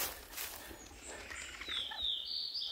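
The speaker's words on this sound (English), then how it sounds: "there's a bird glitched. I don't know if you can hear him." A glitching bird call in the hunting video game theHunter gives thin, high chirps and wavering tweets, faint and a little distant over a soft ambient background.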